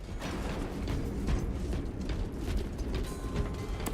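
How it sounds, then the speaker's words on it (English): Weapon reload in a video game: clicks and mechanical clatter of magazines being swapped, moderately loud over a steady rumbling game background. "Swapping magazines. Loading up."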